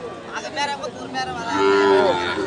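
Cattle at a livestock market, with a drawn-out low moo rising near the middle and swelling loud toward the end, over faint background chatter.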